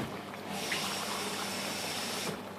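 Water pours from a tap into a skillet while making Spanish rice, a steady close gushing flow that starts abruptly and runs evenly before easing off near the end.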